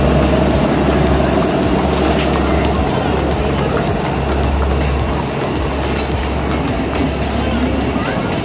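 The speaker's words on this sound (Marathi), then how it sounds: "ट्रेन चालली आहे. ट्रेनला डबे चारच डबे आहेत फक्त." Matheran toy train, a short four-coach hill railway train, rumbling steadily past at close range, with a constant low rolling drone and scattered clatter throughout; a voice is faintly present.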